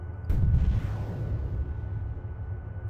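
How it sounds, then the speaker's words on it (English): Missile launch and impact against an armored personnel carrier in the ArmA 3 military game: a loud sudden burst followed by a rumbling roar that slowly fades, with no talking. "Let's see if we can get it with a second missile."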